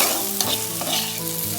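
Sliced okra (bendakaya) fries in a pan, sizzling loudly and close while being stirred, with brief scraping strokes through the dense crackle.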